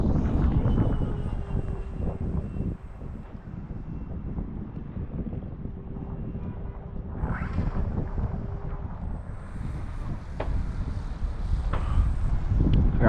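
A radio-controlled model airplane takes off at an RC air show, its small engine droning steadily over broadband wind buffeting on the microphone, the whine rising briefly partway through.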